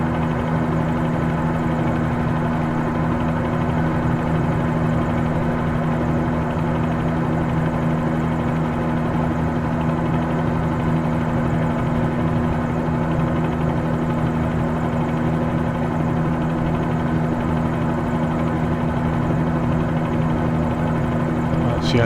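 A helicopter flies in Microsoft Flight Simulator 2020 from Antiquers to Key West, giving a constant loud low engine drone and rotor hum that stays unchanged throughout with no talking.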